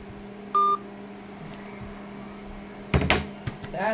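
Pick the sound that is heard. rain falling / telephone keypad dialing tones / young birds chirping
telephone keypad dialing tones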